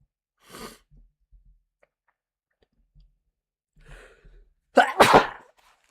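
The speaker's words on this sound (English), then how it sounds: "Sorry about my sneezes." A few sharp sneezes burst out in a quiet room, a small one first, then a louder, forceful double sneeze at the end, separated by near silence.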